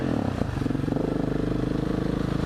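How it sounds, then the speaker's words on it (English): A motorcycle exhaust burbles at close range with a steady, rhythmic low thump from the engine pulses, loud and alone with no speech over it. "you just use the exhaust to let people know you're there"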